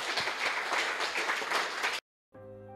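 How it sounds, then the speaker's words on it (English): An audience gives a round of applause for a robotics competition team, a steady burst of many hands clapping for about two seconds before cutting off abruptly, then a tonal musical jingle begins. "I'll just give him a big round of applause for an awesome Robot in 30 Hours"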